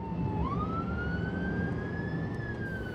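Siren from a Welsh Ambulance Service vehicle rising in pitch and holding a long wailing tone, moderately distant over steady traffic rumble.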